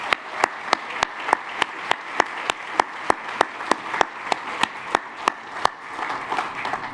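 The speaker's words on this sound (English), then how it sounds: "A huge round of applause, please, for Team CIA." Rhythmic, evenly spaced sharp claps in unison ring out over a softer bed of crowd applause for a culinary team at a food conference, steady for several seconds before the beat stops and loose clapping trails off.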